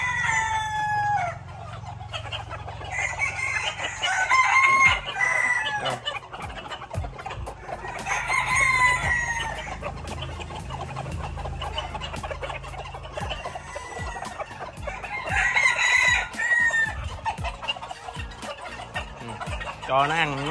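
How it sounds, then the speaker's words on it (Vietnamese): Chickens on a crowded farm cluck busily at feeding time while a rooster crows in repeated bursts, fairly close and steady, with occasional human talk underneath. "Xong rồi gà nó lại nó ăn nha"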